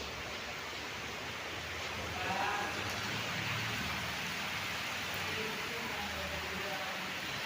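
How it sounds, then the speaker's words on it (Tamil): Heavy rain pours down in a dense, steady hiss in Chennai during a storm, close and continuous, swelling slightly midway through. "செம்ம மழை பெஞ்சிட்ருக்கு. சரியான மழை."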